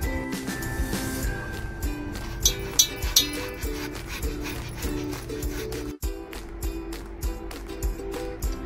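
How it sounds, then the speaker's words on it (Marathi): Boiled potato is grated by hand in a kitchen, making soft, rhythmic rasping strokes that repeat steadily at close range over a faint tonal background. "आपण पहिल्यांदा बटाटा किसून घेऊ।"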